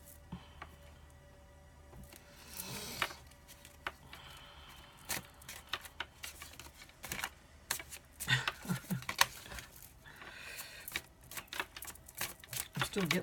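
Tarot cards are shuffled by hand in quick, irregular bursts of papery riffles and soft slaps, close and fairly quiet, continuing throughout.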